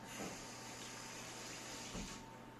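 Tap water runs steadily to wet hands during sourdough bread making. The flow is a faint, continuous rushing hiss that stops near the end, with soft splashing from the hands, and no one speaks.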